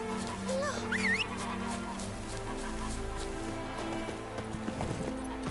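In The Witcher 3, the horse Roach gallops with a steady clip-clop of hooves under game music and ambient noise, while other sound effects pass briefly.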